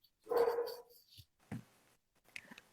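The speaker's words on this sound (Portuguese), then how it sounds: "os meus cachorros estão latindo demais" Several dogs barking in short, loud bursts nearby, a cluster of barks at first, then a single sharp bark and a couple of yips after pauses.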